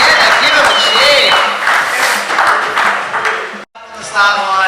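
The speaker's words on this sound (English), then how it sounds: "give them a cheer" Crowd at an RC drift tandem competition cheering and clapping, a broad steady wash of applause and whoops that briefly cuts out near the end, with an announcer's voice carried over it.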